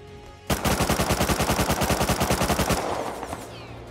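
An AK rifle in the Rust survival game fires a rapid, loud automatic burst of about twenty evenly spaced shots, then the echo trails off and a few faint later pops follow.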